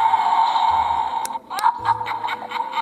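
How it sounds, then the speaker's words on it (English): A tinny electronic sound effect from a Playmobil Scooby-Doo Haunted Mansion playset of a door creaking open, with a steady whine and a bending creak followed by a few quick clicks. "Opening the door."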